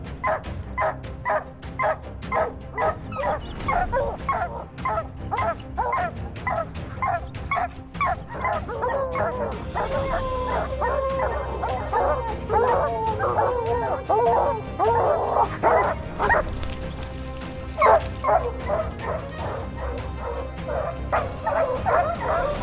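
Hunting dogs used to track lions bark and yip in rapid repeated bursts, several dogs overlapping in a busy excited chorus at close to middle distance, with whimpers among the barks and some voices underneath.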